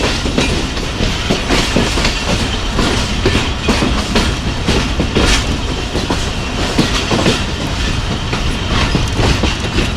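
The Jaffar Express rolls through Punjab between Lahore and Rawalpindi, heard from on board: a loud, continuous rumble with rhythmic clickety-clack of wheels over rail joints and occasional metallic rattles.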